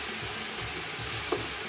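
Lamb meat for a tajine frying in a pot, a steady dense sizzle that holds evenly throughout with one faint clink.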